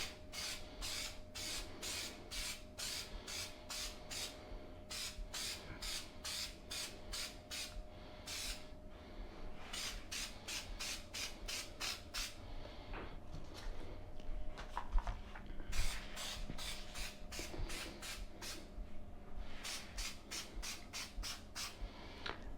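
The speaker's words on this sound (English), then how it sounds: "I'm actually going to spray this piece" Aerosol can of contact adhesive sprayed onto car door skin pieces in short repeated hissing bursts, several quick spurts in a row, then pauses between groups, close and fairly quiet with no talking.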